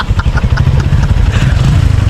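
A motorcycle engine idles close by, loud and steady with a rapid, even low-pitched putter and slight mechanical clatter, no voices over it.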